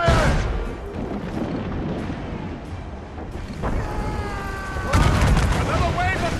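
Ship cannons fire in Assassin's Creed Rogue during a naval battle against fire ships: heavy booms and blasts over constant battle noise, with shouted voices mixed in.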